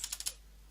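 A computer keyboard types a terminal command in four quick, faint keystrokes close by, followed by quiet.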